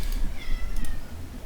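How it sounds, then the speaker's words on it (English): A pet cat meows loudly indoors, a drawn-out, wavering cry followed by a shorter second call, close to the listener over a faint room hum. "Please ignore the cat."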